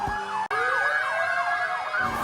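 Emergency vehicle siren wailing loudly and steadily at a Chinese New Year parade in Binondo Chinatown, led by firefighters with police and ambulances, the rising and falling tone sweeping continuously over street noise.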